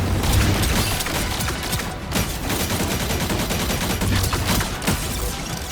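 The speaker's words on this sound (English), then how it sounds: "Rockets, fire!" Dense barrage of rocket and weapon fire in Marvel Rivals, a continuous loud roar of overlapping blasts and mechanical clatter with no pauses, close and unbroken throughout.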